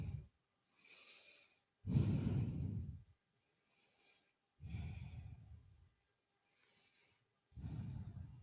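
Slow, deliberate breaths during a yoga session, several soft inhales and longer audible exhales alternating with quiet pauses, close and fairly faint.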